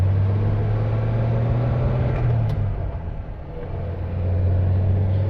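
A Rover 75 P3 saloon pulls away in first gear with a steady tonal gear whine over a low engine rumble, close and continuous, dipping briefly before rising again.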